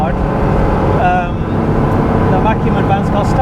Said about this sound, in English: Now I'm going to give it the beans